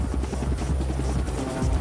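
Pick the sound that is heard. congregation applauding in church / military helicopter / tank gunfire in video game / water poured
military helicopter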